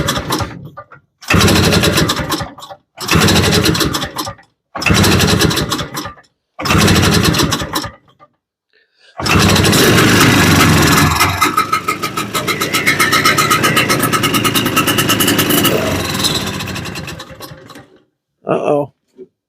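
An old barn-find Boa Ski snowmobile engine is cranked in four short bursts, then catches and runs loud and close with a raspy two-stroke buzz for several seconds before cutting out, followed by a brief final sputter.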